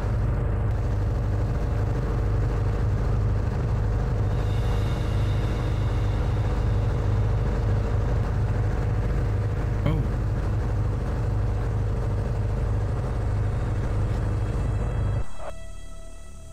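A continuous low engine rumble of a car driving, steady for most of the clip before dropping off abruptly near the end.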